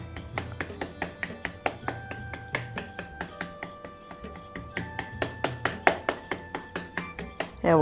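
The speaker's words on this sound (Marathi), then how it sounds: "या वड्या आपण अशा कापून घ्यायच्या." A knife chopping set sesame and jaggery til vadi into pieces on a plate, a quick series of sharp, close taps at an irregular rhythm with ringing metallic overtones, louder toward the end.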